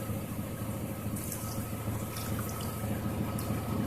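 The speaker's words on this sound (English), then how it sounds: "Now I'm gonna go ahead, pour the mixture in." A thin mixture of Rustoleum paint and mineral spirits being poured into a container, heard as a steady close liquid trickle and splash that carries on throughout with no talk.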